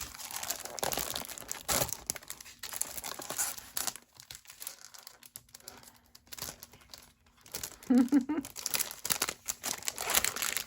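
Sheets of paper from a papercrafting kit rustle and crinkle close up while being handled, in uneven bursts with quieter pauses, and a person speaks briefly during the handling.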